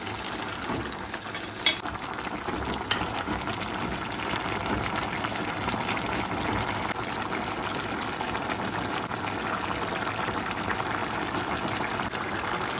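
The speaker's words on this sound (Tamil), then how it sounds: "மட்டன் நல்லா வெந்தண்டு வருது கொதிச்சு அவியட்டும்" Jaffna-style mutton curry boiling in a pot, a steady low bubbling and simmering hiss that stays even throughout, with a couple of faint clinks near the start.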